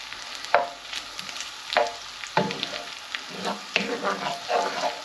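Butter melting with garlic in a pan on the stove, soft sizzling and frying crackle with a few louder spits and stirring clatters, fairly quiet and close.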